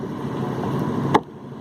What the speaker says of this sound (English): It's very good exhaust note and well performed bike.